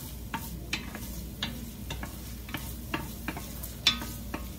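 Onion and garlic fry in a pan for chicken soup, a soft steady sizzle broken by light stirring scrapes and taps at an irregular rhythm, close and fairly quiet.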